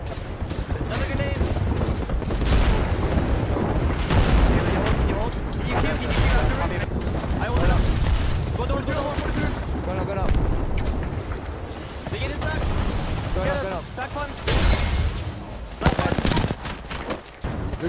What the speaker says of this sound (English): I'm nading in the corner